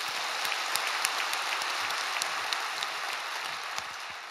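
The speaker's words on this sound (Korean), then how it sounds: "우리 하나님께 우리 영광의 박수 올려드립시다." Church congregation applauding during a dawn worship service before a sermon, a steady wash of many hands clapping at moderate distance, dense and even throughout with no talk over it.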